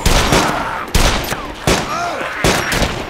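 Four loud bursts of high-powered gunfire from the video game DayZ, each a sharp broadband crack spaced under a second apart, with ringing tails and faint game sounds between shots.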